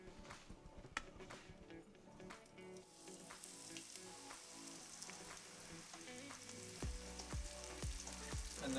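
Freshly caught fish fries in a pan, giving a steady, dense sizzle with scattered pops and light scraping near the end, faint and continuous with no talking.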